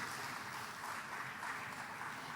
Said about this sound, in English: A huge round of applause to Effie for making this possible